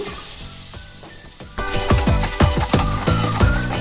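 Two onions drop into hot butter for an egg masala curry: a quiet pan hisses, then bursts into loud crackling sizzle with sharp spattering pops and stirring, close up, no talking.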